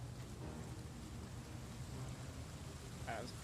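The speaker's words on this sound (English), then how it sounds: "Oh, there's the rain." Steady rain hiss in a video game fills the scene, a dense even wash of falling water with low rumble underneath and a brief muffled voice near the end.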